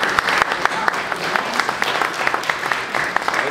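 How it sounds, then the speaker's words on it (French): At a municipal election debate, an audience breaks into applause, a close, lively patter of many hands with a few sharper individual claps standing out, holding steady for several seconds. "Ça mérite une main d'applaudissement."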